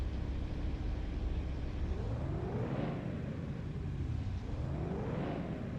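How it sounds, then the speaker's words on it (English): A classic Mercedes-Benz W113 Pagoda engine running and revving, rising and falling in pitch twice, heard steadily at moderate distance with no talking. "Has a good engine sound."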